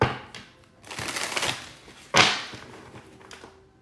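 Quick riffling bursts of card shuffling, a few separate flurries with one sharp louder snap in the middle, close and clear.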